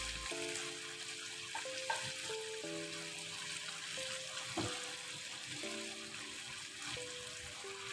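Fried koi fish dropped into masala cooking in mustard oil, making a soft, continuous sizzle and crackle with faint stirring, heard fairly quietly with no talk.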